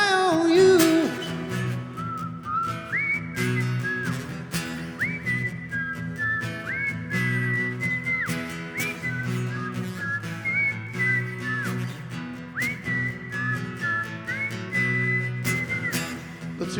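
Audience at an arena concert whistling along to a song's melody, a bright chorus of sustained and sliding whistled notes over the band's backing music, with no talking.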